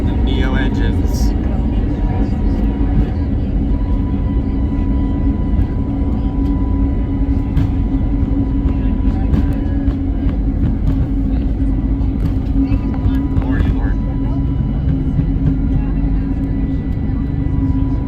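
Airbus A320neo jet engines on the takeoff roll at San Diego, a loud continuous cabin roar and hum, with talking over it.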